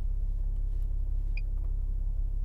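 A red 2020 Toyota Supra accelerating hard from a standstill, a steady, deep engine rumble holding at an even loudness throughout, with no talking.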